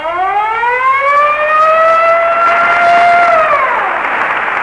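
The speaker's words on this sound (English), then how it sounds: "whenever you hear the siren and bell," Mechanical siren on a vintage Texaco radio show winds up, holds a loud sustained wail, then slides down and fades, with no bell evident.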